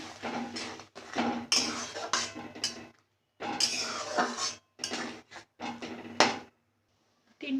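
Clattering metal scrapes and knocks as a utensil stirs spinach and fish curry in a pot, coming in uneven bursts separated by short pauses.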